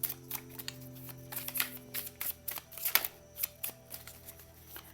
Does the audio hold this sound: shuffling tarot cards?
yes